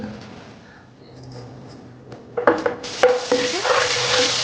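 Butter hits a hot kadai for pav bhaji, starting with faint clinks of utensils, then bursting into a close, steady hiss and sizzle that holds through the last couple of seconds.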